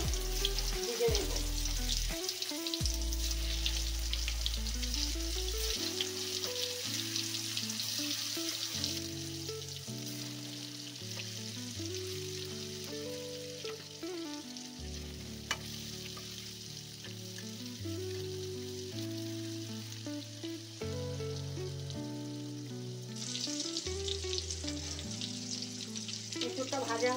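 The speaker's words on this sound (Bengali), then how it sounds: "এর মধ্যে রেখে রাখা এঁচড়গুলো ভেজে নেব।" Young jackfruit pieces fry in hot oil with a continuous bubbling sizzle, steady throughout, under a bed of low background music and no voices.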